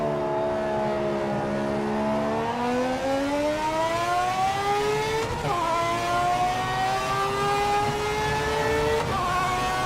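Race car engine in Project Motor Racing revving and climbing through the gears, a loud steady whine rising in pitch with two brief shift dips, no talking.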